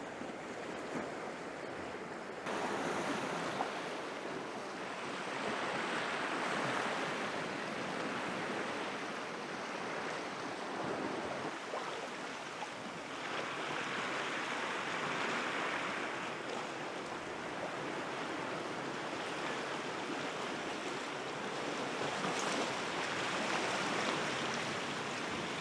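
Sea waves wash steadily against the shore beyond seaside railings, a broad continuous surge that swells and eases every few seconds, mixed with wind buffeting the microphone, and no one speaks.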